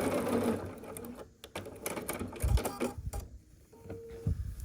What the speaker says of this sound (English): you're gonna sew here with your 1/4 of an inch seam allowance all the way across